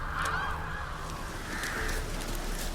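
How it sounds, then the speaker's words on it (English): Crows in The Witcher 3: Wild Hunt, a few harsh, honking caws in two bursts, faint and somewhat distant over a steady background hum. "Crows! I can hear you, crows."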